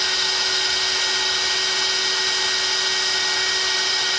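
Hot air tool blowing steadily on the jammed center shaft of a sewing machine, a continuous loud whooshing hiss with a constant hum underneath, close and unchanging, no voices.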